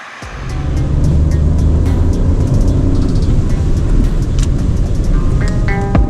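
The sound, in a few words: BMW 218 M Sport 1.5 litre turbo three-cylinder engine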